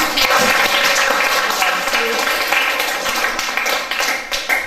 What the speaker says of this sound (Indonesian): Oke, tepuk tangan Bapak.